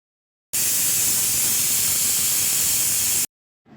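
A pressure cooker cooking goat trotters for nehari lets out a loud, steady hiss of escaping steam for nearly three seconds, starting and cutting off abruptly with nothing else heard.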